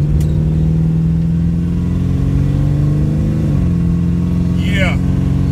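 A 1968 Mercury Cougar with a 9-inch rear end and 4.10 posi gears drones steadily and close as it accelerates, its engine note climbing and briefly dipping at a shift, with a short voice near the end.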